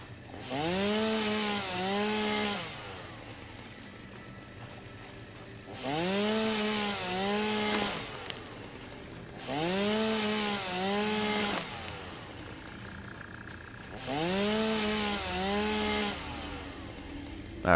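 Four long chainsaw bursts in the video game Satisfactory, each revving up and holding a steady buzzing whine for about two seconds before cutting off, separated by quieter pauses, fairly loud and with no talking.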